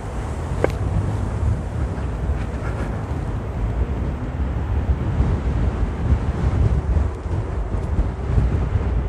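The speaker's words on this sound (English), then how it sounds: "It's a little bit windy today, as it always is in the UK." Steady wind roars and buffets the microphone throughout an electric unicycle ride on an Inmotion V11 in the UK, loud, continuous broadband rumble with no clear voice.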